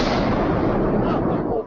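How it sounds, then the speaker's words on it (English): A heavy, booming explosion near Building 7 on the afternoon of 9/11 fills the whole clip with a dense, loud rumble before dropping away at the end. "this explosion heard by first responders in the afternoon of 9/11 adjacent to Building 7"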